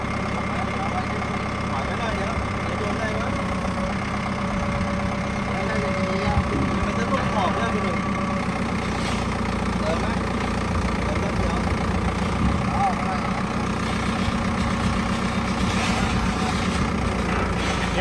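An old Ford TS100 tractor with a 12x12 manual gearbox idles steadily, a low rumbling diesel drone that stays even throughout while someone talks over it close by.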